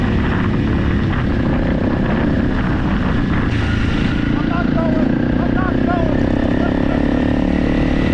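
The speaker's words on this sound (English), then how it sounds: "800 is a great bike, super light, only about 400 pounds, 800 cc's, about 95 horsepower" An 800 cc motorcycle of about 95 horsepower, weighing roughly 400 pounds, rides continuously on a canyon route near Island in the Sky mesa, its engine droning steadily throughout alongside wind noise and a voice talking over it.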